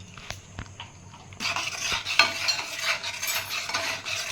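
Amul milk powder being stirred into milk in a pan, a spoon scraping and clinking against the metal, beginning with a few soft taps and turning into a steady close scraping swirl.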